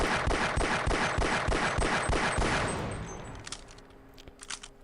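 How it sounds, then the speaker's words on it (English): Rapid pistol fire in the Half-Life video game, a fast string of sharp shots aimed at a huge mounted cannon, loud and close, ending after about three seconds and followed by scattered clanks and debris. "So we'll destroy it with the pistol."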